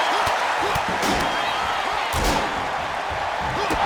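Steel steps slam with a heavy metallic crash in a wrestling video game, bursting through a constant roaring crowd, with a commentator's voice talking over the din.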